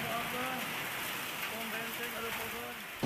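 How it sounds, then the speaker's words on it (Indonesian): Heavy rain with strong wind pounding down in Sukabumi, a steady dense roar of downpour, loud and unbroken throughout, with faint voices buried beneath it. "hujannya sangat luar biasa deras, dibarengi dengan angin kencang"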